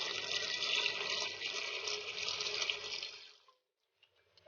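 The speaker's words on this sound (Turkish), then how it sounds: "üzerine 3 su bardağı kadar su katıyoruz" Water pours steadily into a cooking pot for about three and a half seconds, a loud continuous splashing stream that stops abruptly, leaving near silence with a few faint drips at the end.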